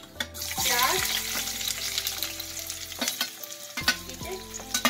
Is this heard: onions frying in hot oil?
yes